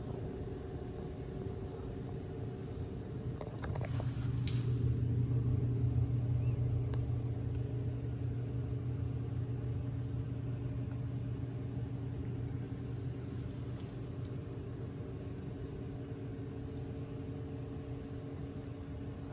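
A Volvo 240 wagon idles with a new eBay exhaust, a low steady rumble that swells briefly as the engine is blipped, then settles back to a constant drone.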